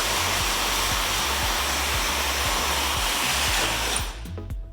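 A hair dryer roars steadily and close while it blow-dries a woman's hair during a haircut, a constant airy rush with faint rhythmic brushing strokes underneath before it cuts off at the end.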